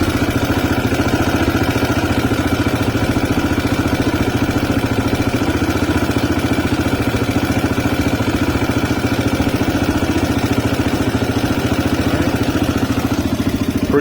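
A CSC RX3 motorcycle engine idles steadily at around 1550 rpm, with a continuous, even low-mid rumble and light mechanical clatter running throughout, close to the microphone and with no voices.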